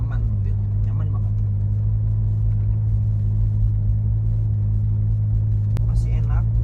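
Inside a 1997 Toyota Kijang LGX with a carbureted automatic gearbox, a steady low engine rumble and road drone continue throughout, while someone talks over the noise.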